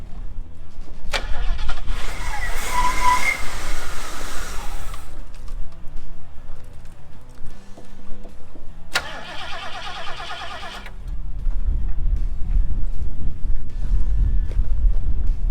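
A 351 Cleveland V8 in a Ford LTD, dormant for 15 years, cranks and catches, then runs with a rough idle, its low rumble steady throughout with bursts of mechanical noise and wind buffeting.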